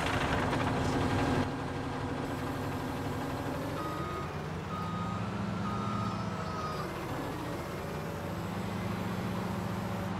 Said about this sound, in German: Bei dem LKW hat aber einer den Motor angelassen.